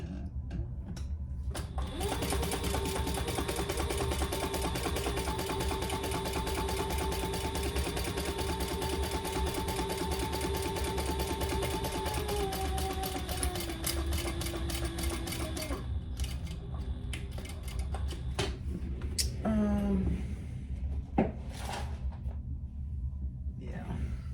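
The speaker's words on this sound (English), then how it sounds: "now we're gonna sew those all in place" A sewing machine runs steadily as it stitches a travel jewelry case with clear vinyl, a continuous whirring hum for about eighteen seconds before it stops, followed by some handling noise.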